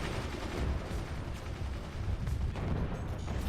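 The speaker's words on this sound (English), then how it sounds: "Another solid cannon round." Solid cannon rounds in a video game firing, several heavy booming shots in quick succession over a dense, rumbling battle backdrop with no talk.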